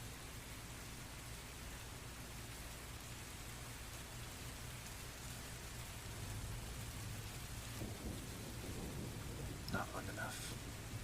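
Steady rain falling, heard as a dense continuous hiss of moderate loudness, with a few brief bumps and clicks late in the clip.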